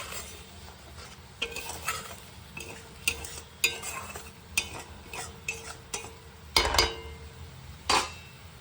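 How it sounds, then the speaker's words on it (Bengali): Food sautéed in a pan with a spatula, a steady run of sharp scrapes and clacks against the metal over a low sizzle, with a couple of louder knocks. "চলো এটা ভালো করে কষিয়ে নিই এবার।"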